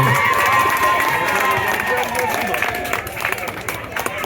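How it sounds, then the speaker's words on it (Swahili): A crowd at an outdoor water-project gathering in Msakuzi, Kibamba, claps and cheers for a Member of Parliament. The applause is steady and fairly loud throughout, mixed with shouts and voices from the gathering. "Pigeni makofi mengi sana Mheshimiwa Mbunge."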